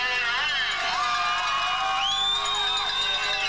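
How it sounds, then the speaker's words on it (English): A football crowd at a 1997 senior first final between Brunner and Cobden roars and cheers wildly, a dense continuous wash of shouting and whooping with rising individual yells cutting through. "The Brunner crowd are just going wild now."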